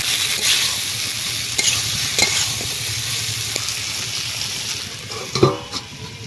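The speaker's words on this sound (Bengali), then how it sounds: "আস্তে আস্তে এই মশলার সঙ্গে পেঁয়াজ কলি কষানো হবে।" Onion stalks fry in oil-released spice paste for a dry fish curry, with a continuous close sizzle and the scrape and clatter of a spoon stirring against the pan.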